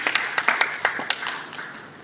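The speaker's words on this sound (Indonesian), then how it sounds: "Boleh tepuk tangan buat Tuhan kita." A church congregation clapping hands during a Sunday service, a quick run of sharp, scattered claps that thin out and fade over about two seconds, with no talk over them.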